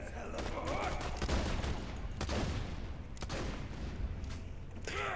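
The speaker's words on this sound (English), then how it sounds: "It doesn't shoot as fast as you can pull the trigger" Rapid, loud gunfire bursts from a Borderlands 2 video game fight, repeated shots with slight gaps between them, dense and continuous across the clip with a voice speaking over the action.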